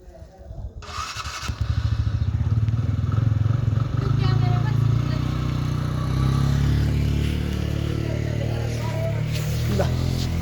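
A motorcycle engine starts and settles into a steady, rumbling idle with some clatter, close by and loud, while voices talk over it throughout.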